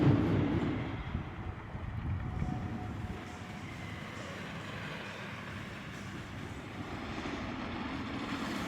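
A roller coaster train at an amusement park runs along its track with a steady rumble and rattling, starting louder and then settling into a continuous low roar at moderate distance.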